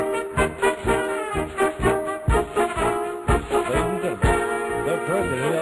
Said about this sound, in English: The new Hail to the Chief.